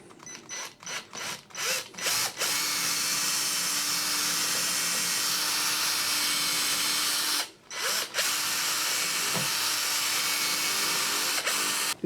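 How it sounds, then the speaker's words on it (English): A power drill whirs close by in several short bursts, then runs in a long steady grind, pauses briefly, and grinds on again, drilling into a door to fit an indicator bolt. "We're now just going to get the drill and drill in there to get some of the deeper material out."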